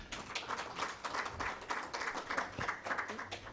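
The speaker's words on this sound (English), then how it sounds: "A round of applause to him." Audience at a national conference on economic, social and cultural rights claps for a speaker, a fairly faint, continuous patter of many hands with uneven swells.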